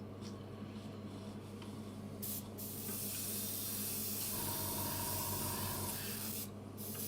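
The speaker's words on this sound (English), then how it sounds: "Give me a sec just to dial in the airbrush here." An airbrush sprays varnish with a steady close hiss, broken by a couple of brief pauses and a faint mechanical hum underneath, no talking.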